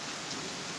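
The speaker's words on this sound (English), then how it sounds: "There's not a lot of wind, but it's sure as hell raining" Heavy rain pours steadily during a severe thunderstorm in Pittsburg, Kansas with little wind, a dense, even hiss of drops close by and no talking.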